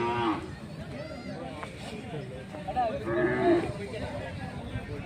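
Cattle at a weekly Sunday cattle market in Jodugatte give an occasional low moo amid busy crowd chatter, with people talking nearby.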